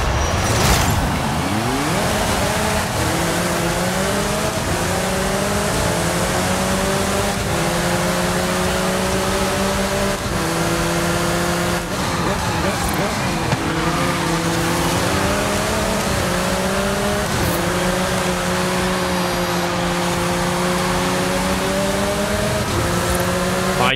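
A McLaren Artura's engine revs hard and climbs through repeated upshifts in Forza Horizon 5, a loud, continuous close-up drone with rising pitch sweeps and brief drops at each gear change.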